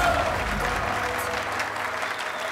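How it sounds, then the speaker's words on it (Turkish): Guests at a shoe fashion show applauding, a full crowd clapping at steady volume with a faint musical hum beneath. "Alkışlarınız için çok teşekkür ederiz."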